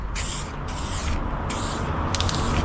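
A spray can of primer paint hisses in four short bursts, each about half a second long with brief gaps, loud and close over a steady background.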